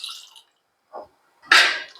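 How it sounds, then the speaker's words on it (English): Tamarind water poured into dal heating on a gas stove for bhindi sambhar, heard as a few short liquid splashes and drips with a louder final pour, close by and without talk. "Now I'll add this tamarind water which is kept ready."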